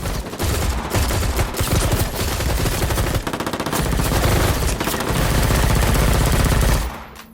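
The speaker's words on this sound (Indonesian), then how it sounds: "ternyata tim Andy sudah ditunggu yang kemudian ditembaki oleh sekelompok orang bersenjata" An armed group opens fire in an action film scene, with loud, sustained bursts of rapid automatic gunfire and dense volleys of shots continuing for about seven seconds before stopping abruptly.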